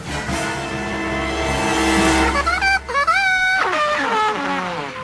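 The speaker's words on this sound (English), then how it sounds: "All the villains could hear was their truck, speeding away with our heroes safely inside." A cartoon truck speeds away with a loud, continuous engine roar and wailing, sliding pitch sweeps that rise and fall through the middle, then trail off toward the end.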